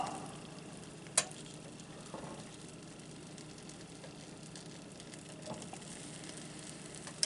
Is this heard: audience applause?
no